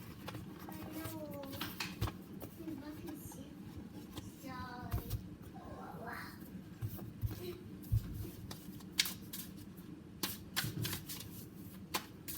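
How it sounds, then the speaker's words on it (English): Oracle cards shuffled by hand, a steady papery riffling and patter running throughout at close range, with faint background sounds and brief voice-like tones mixed in. "I feel like pulling out 2 oracle cards"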